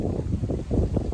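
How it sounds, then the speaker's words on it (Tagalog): Strong wind buffeting the microphone at a grotto in Dingalan, Aurora, a steady low roar with gusty swells throughout. "Sobrang lakas ng hangin."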